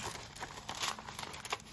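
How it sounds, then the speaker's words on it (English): Paper envelopes from old bills crinkle and rustle as they are handled close by, a soft, continuous crumpling with small sharp crackles. "I got a bunch of different envelopes here just from old bills and stuff"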